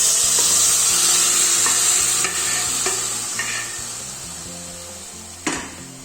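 Cooked chicken and its stock go into a pan of simmering chicken stew, with a loud, steady hiss and sizzle at first that gradually eases, and a single sharp clank near the end.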